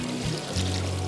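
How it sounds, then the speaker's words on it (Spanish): A swollen, fast-flowing river in the Huasteca after constant rains rushes in a loud, continuous watery roar with a low, steady hum beneath it. "Pues aquí está su río, miren. Bien caudaloso"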